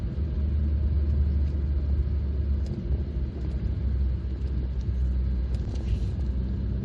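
A 1997 Renault Mégane Coupé 1.6e Fidji cruises along, its engine drone and road rumble forming a steady, low, close hum inside the cabin, with faint ticks and rattles above it.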